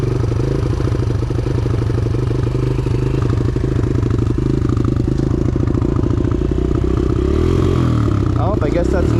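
A dirt bike engine runs steadily at close range with a low throbbing idle and slight revving as the rider works the clutch, continuous and loud, with a voice speaking over it.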